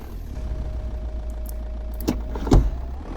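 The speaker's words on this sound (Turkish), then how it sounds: "Evet aracımızı çalıştıralım." A truck engine starting in Euro Truck Simulator 2, a low steady engine drone with a couple of sharp mechanical clunks near the end, close and moderately loud, with no talking.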